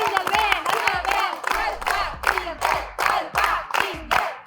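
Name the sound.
game show audience cheering for a contestant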